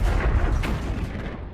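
Artillery fire in war footage from fighting in Ukraine, heard as a dense, continuous rumble of distant blasts and booms layered over each other with no clear gaps, with no voices present.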